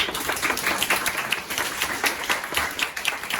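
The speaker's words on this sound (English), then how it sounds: "Applause to you." Members at an NUS Toastmasters club meeting clap for a speaker, a lively, fairly close burst of many hands with crisp individual claps standing out over steady room applause.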